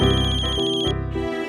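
A phone ringtone plays loud and close: a bright repeating electronic melody of steady pulsed notes shifting pitch in short phrases, with no talking over it, indoors in a home.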